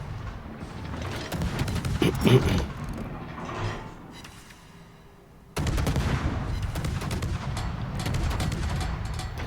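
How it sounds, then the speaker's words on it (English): Main battery guns of the destroyer Joshua Humphreys in World of Warships fire in loud booming volleys, a burst around two seconds and another heavy barrage after a brief lull, with mechanical rumble between shots. "we'll exercise the artillery and shoot the main."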